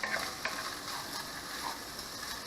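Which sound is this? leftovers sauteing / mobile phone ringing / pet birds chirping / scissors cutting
leftovers sauteing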